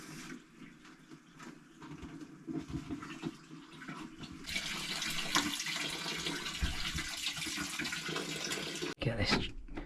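Water draining from a plumbing system during a plumbing job, a rushing gush that starts softly amid handling noises and talk, then swells into a steady louder flow before a brief break.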